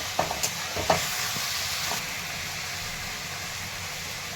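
Onion, garlic, tomato and moong dal stirred and sizzling in a pan for tomato chutney, a steady frying hiss with a few sharp spoon scrapes near the start, no talking.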